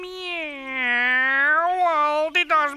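A cat gives one long, drawn-out meow that rises and falls in pitch and ends in a few short broken cries, close and clear against silence.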